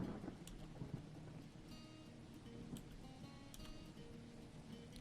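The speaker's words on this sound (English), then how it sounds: "It's raining on me" Steady rain falls in the Dwarf Fortress game, a dense continuous hiss with faint low rumbling beneath and a few soft taps, no talking.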